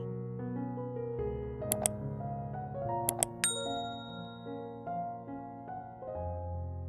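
Bell-button ding sound effect: a few bright, ringing dings that tail off, set over a soft musical backing with sustained tones, fairly quiet and without talk.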